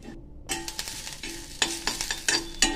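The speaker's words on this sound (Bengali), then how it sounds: "ধৈর্য সহকারে একটুখানি নাড়তে হবে" Chicken cooks in a pan without oil, with chopped chili added, while a utensil stirs it in several quick scraping bursts over a faint sizzle.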